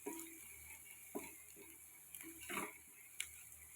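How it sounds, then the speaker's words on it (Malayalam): Faint scraping and light clinks of a spoon stirring salt into food in a pan, a few scattered strokes over quiet background hiss. "അപ്പം ആ ഉപ്പും കൂടെ ചേർത്ത് നമുക്ക് ഇളക്കി കൊടുക്കാം കേട്ടോ."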